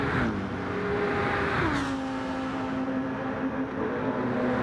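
Race car engine in a racing video game at Daytona winding down as it decelerates, a steady whirring drone whose pitch drops partway through and then holds lower, loud and continuous with no talk.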